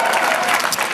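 Audience applause at a New York City mayoral event, a dense, steady burst of clapping from a crowd, loud and close throughout the short moment.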